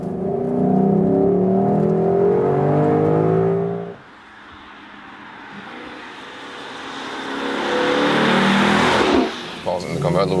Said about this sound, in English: Let's hit the throttle once more. Let's go back to about 50 kilometers an hour and push it through.